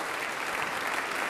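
Audience applause in a concert hall after the premiere of a new composition at the Beethovenfest, a short burst of dense, even clapping from a large crowd.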